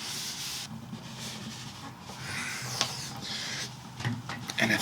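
Cloth rubbing excess Odie's Oil off a cedar slab, a continuous close swishing and wiping hiss in repeated strokes with a few small knocks.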